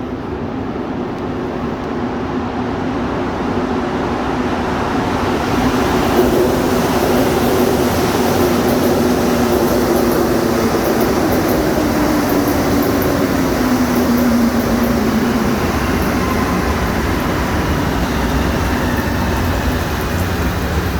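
A metro train rolls into an underground platform at Place-des-Arts station in Montreal, giving a steady, loud rumble with a rising roar and a faint squealing tone as it arrives in the echoing station.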